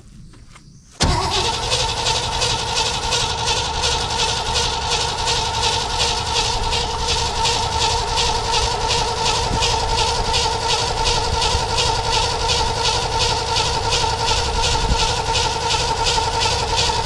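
An old Chevrolet 210 engine cranks over, a loud, fast rhythmic starter churn that begins abruptly and keeps going steadily without catching.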